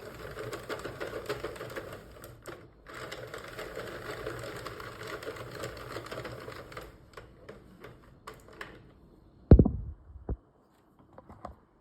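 A Sentro circular knitting machine is cranked through rows of waste yarn, making a rapid, busy clattering whir for about seven seconds. It then slows into scattered clicks, a sharp knock, and near silence.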